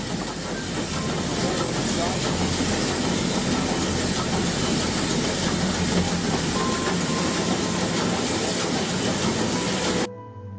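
A train running along a railway line, a steady loud rumble with rattling wheel noise and hiss holding for about ten seconds before cutting off abruptly near the end.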